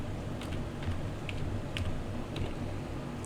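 Someone typing VBA code on a computer keyboard, a handful of soft irregular key taps over a steady low background hum.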